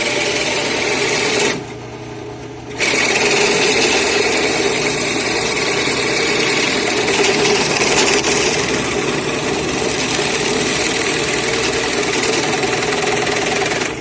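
A drill cuts a 1.5 inch hole, a loud continuous grinding whine that drops out briefly after the start, then runs steadily and close for the rest.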